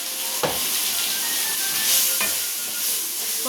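Mango pieces sautéing with chilli powder in a hot pan for mango pachadi, giving a steady close sizzle broken by two sharp scrapes of stirring, with no talk.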